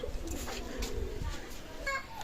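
Imported Pakistani Teddy pigeons coo softly in low, murmuring notes beneath a nearby voice talking steadily throughout.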